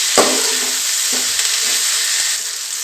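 Onions sizzle and fry steadily in a pan for tomato chitranna, with a few scraping stirs of a spatula cutting through the constant crackle, close and fairly loud with no talking.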